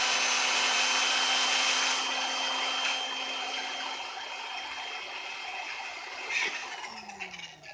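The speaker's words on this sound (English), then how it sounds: "just finished drilling this hole over here" A power drill bores a hole in the body of a 1998 Mitsubishi Eclipse GS for an aftermarket spoiler, a steady high whine close by that slowly eases off toward the end, with no talking.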